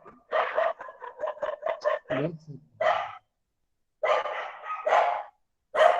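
Street dogs bark in short, repeated bursts at middle distance, a run of quick barks followed by a few spaced ones, with someone talking nearby.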